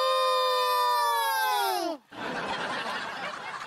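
A voice imitates a rooster crowing in one long, strained call that breaks off, followed by noisy scuffling and laughter nearby, in a Hindi TV sitcom scene.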